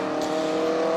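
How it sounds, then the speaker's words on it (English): A Ford Cortina GT race car at the Kyalami 9 Hour Revival in 2007, its engine droning loud and steady at sustained revs, held near for the whole moment without any talk. "Jesse Adams is pushing that car along big time, that Cortina GT"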